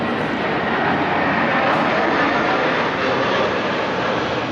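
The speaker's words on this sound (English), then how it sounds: "Now you're going to hear one of these aircraft going past it." Large airplane flying low past a balcony near an airport, a steady, loud, broadband engine roar that fills the whole stretch without pause.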